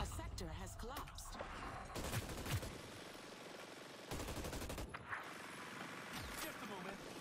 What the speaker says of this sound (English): They're taking pot shots at us.